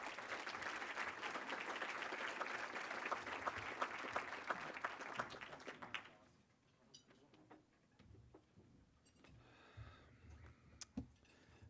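An audience applauds to welcome a keynote speaker at an evening event, with steady, dense clapping for about six seconds before it quickly dies away into quiet room noise and a few scattered last claps.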